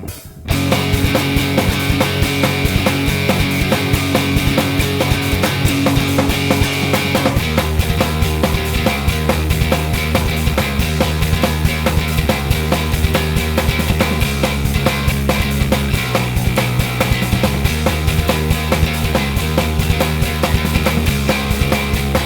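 A heavy, distorted bass guitar power-chord riff chugs steadily at full loudness, the chords shifting in a repeating rock pattern with no voices.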